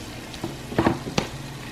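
Beef noodle stir fry sizzling briefly in a pan as it is tossed, with a couple of short scraping stir strokes over steady frying.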